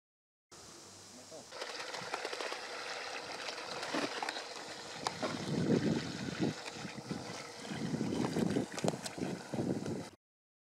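A boat without a hard bottom moves over water, driven by a Haswing Protruar 1.0 30-pound electric trolling motor. A steady hiss of water and wind builds and swells throughout, with a voice faintly mixed in.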